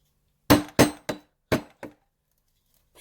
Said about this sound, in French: quand je mets des coups de marteau